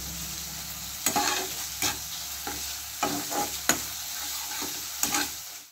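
A spoon stirs coriander powder and spices frying in a pan for egg pulao, with a steady sizzle broken by several distinct scraping strokes, close and fairly quiet.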